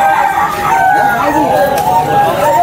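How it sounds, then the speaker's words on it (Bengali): Kadaknath and desi chickens at a roadside chicken market in Rajarhat, Kolkata give loud, close clucks and crowing calls. Someone talks over them. "একদম চাঙ্গা মুরগি আছে, দেখতেই পাচ্ছেন।"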